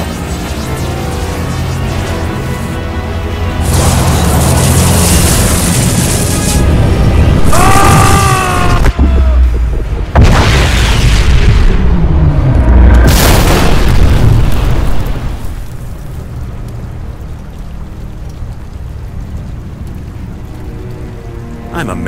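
A boom tube destabilizing in the fighting game Mortal Kombat vs DC, a long roaring blast with sweeping, warbling tones and deep rumbles that surge twice before fading into a low hiss.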